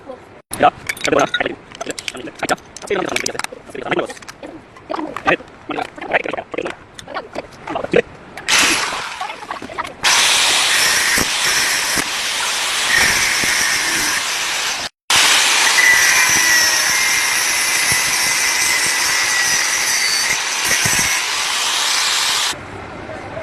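Power tool, likely a grinder or saw, cuts open the casing of an unfamiliar new electric motor, starting after clattering handling and running as a loud, steady broadband whine in two long passes with a brief stop between.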